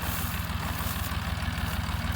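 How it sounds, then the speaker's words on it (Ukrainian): A Dongfeng 254 tractor engine idles steadily and close by after disking stubble in a dry field, giving a continuous low rumbling throb with no talk over it. "тракторця не глушив, тому що нагрівся від роботи трохи"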